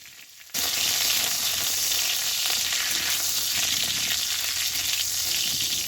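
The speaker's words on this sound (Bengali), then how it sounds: "ফোড়নটা কিছুক্ষণের জন্য তেলে ফুঁদি দিয়ে ভেজে নিচ্ছি" A split dried red chilli and a bay leaf frying in oil, a hot sizzle that bursts in suddenly after a quiet half second and then stays loud and steady to the end, with no voices.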